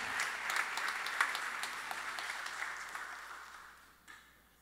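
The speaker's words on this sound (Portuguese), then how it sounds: "aplauda o nome dele para sempre" A church congregation applauds during a sermon, with close, crisp clapping that builds, then gradually fades over several seconds before a last few claps.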